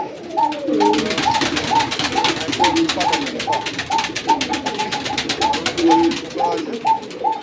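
Fancy pigeons in a loft coo repeatedly in a steady rhythm, several birds close by, over a constant rushing background noise.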